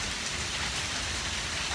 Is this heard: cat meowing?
no